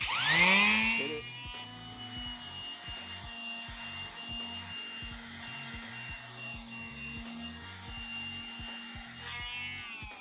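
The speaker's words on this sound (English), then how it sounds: "So we like to go around with the little sander" A small handheld sander running steadily around the perimeter of a metallic epoxy floor, a close, continuous whirring grind with a rhythmic pulsing as it moves, starting with a brief louder burst.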